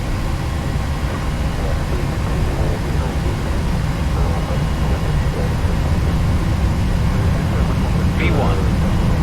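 Jet engines of a PMDG 737-800 at takeoff thrust in the Prepar3D flight simulator, a loud steady roar with broad rushing noise throughout. Pilots call out over it.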